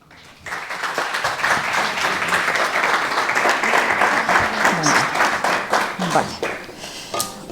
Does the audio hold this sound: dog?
no